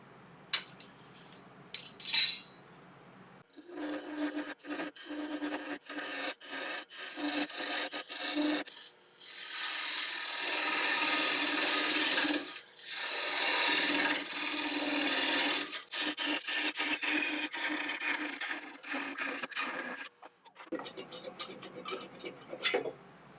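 Parting tool cutting into a spinning blank of African mahogany on a wood lathe, a steady close rasping scrape in several long passes with brief pauses between them.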